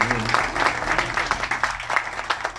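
Scattered applause from a small audience aboard the cruise ship Majesty of the Seas, a patter of claps carried over a low steady hum, with a little talk mixed in.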